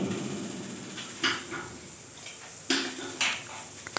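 A gas water heater's igniter ticks without any valve click, giving a few scattered sharp ticks over a steady hiss, close and fairly clear.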